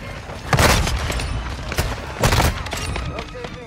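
KV Broadside shotgun in Modern Warfare 2 firing in quick succession, heavy booming blasts spaced close together, loud and up front with game noise between shots.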